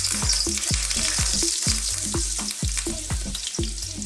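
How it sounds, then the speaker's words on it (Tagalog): Butter melts into a little oil in a wok, crackling with a bright sizzle over a run of rhythmic low knocks and scrapes as it is stirred, close and steady throughout. "Sa ating wok, may mantika na po siya, konti lang. Lagyan na natin yung butter."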